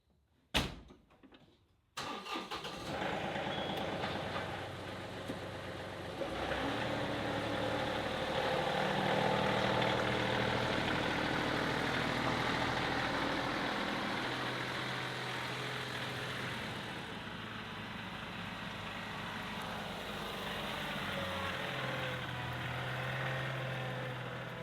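Vehicle engine while driving, a steady rumbling drone inside the cab that shifts gently in pitch over time, preceded by a short thump at the start.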